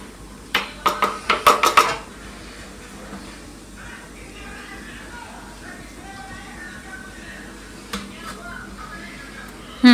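Metal idli plates clatter and clink as they are handled and filled with batter, a quick run of sharp knocks at the start, then quieter handling, a couple more taps and a final clank, with talking in between.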